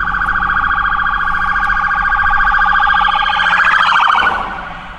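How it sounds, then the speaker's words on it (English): A loud police siren wails steadily in a rising and falling pattern, close by, before fading out at the end. "Kind of like that cop siren."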